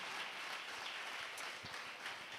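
A church congregation applauds during a Sunday worship service, a faint, steady wash of clapping heard from a distance for a couple of seconds with no voices over it.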